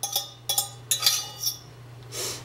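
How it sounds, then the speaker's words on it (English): Spoon clinking against a pot while browned ground turkey is stirred into homemade lasagna sauce, making a few sharp metallic taps spaced about half a second apart and then a softer scrape, close up over a low steady hum. "I browned up some ground turkey, and I'm going to put that in now and get that stirred around."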